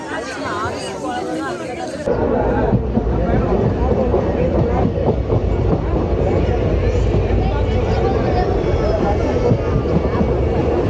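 Crowded Madurai to Tuticorin connection train running after leaving Madurai Junction, a steady loud rumble and rattle of the coach throughout, with passengers chattering underneath.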